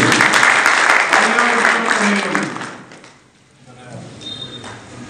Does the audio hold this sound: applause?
yes